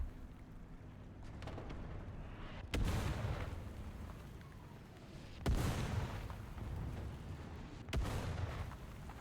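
Artillery in a World War II tank combat game: three heavy booming blasts spaced a few seconds apart, each a sharp crack followed by a rolling rumble, set against a constant low engine drone.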